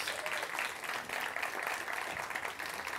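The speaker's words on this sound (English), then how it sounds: "Big round of applause for them," Audience applause greeting a panel invited onto a stage at an industry talk on LGBTQ+ perspectives, a steady wash of clapping from a crowd lasting the whole stretch with no speech over it.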